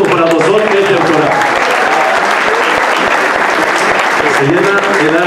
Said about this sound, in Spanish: Un aplauso para vosotros, Keter Torah.